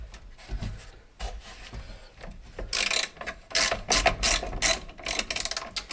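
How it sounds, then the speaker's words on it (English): A ratchet wrench works a stubborn bolt off a bracket on a simple bicycle, giving bursts of close, sharp metallic clicking in quick runs that grow denser in the second half, with faint handling knocks and no speech. "I got to pull this bolt back off, this harder one, so I can fix where I put this bracket."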